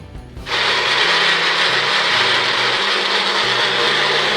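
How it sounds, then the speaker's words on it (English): A NutriBullet blender blending dog treat ingredients starts abruptly and runs at full power with a loud, steady whirring roar that continues without pause. "The NutriBullet makes things super simple."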